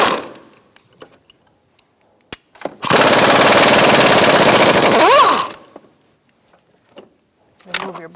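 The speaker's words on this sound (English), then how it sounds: "We're going to remove our tray using a 13mm socket. And take out that nut and then these two bolts." Ratchet fitted with a 13mm socket loosening a nut and two bolts on a 2012-2019 Fiat 500 1.4L, heard as a loud, dense rapid clicking burst lasting a few seconds at close range, with scattered small taps and clunks before and after.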